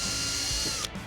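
Power drill boring holes through the body panel of a 2016 Mustang GT during a supercharger install, a short steady whirring burst close by that cuts off abruptly near the end.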